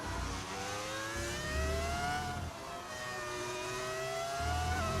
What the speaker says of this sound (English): This is a Renault V10 engine.